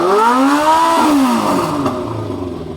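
A Yamaha Fazer 600 motorcycle engine revs up loudly nearby, its pitch climbing and then falling away as the throttle closes, with no talk.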